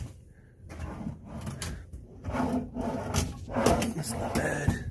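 Wooden drawers in a hotel room slide open and shut several times, producing muffled thuds and scraping rattles at close range amid faint room noise.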